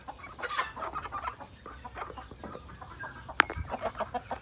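Darag native chickens, a large upgraded strain crossed with Rhode Island, clucking softly in short repeated calls nearby, with a brief sharp knock partway through.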